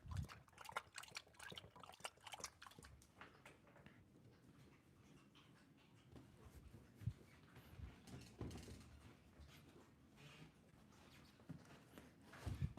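A dog laps water from a bowl indoors, a soft, irregular wet lapping that continues quietly throughout with occasional louder slurps and clinks, close by and without talk.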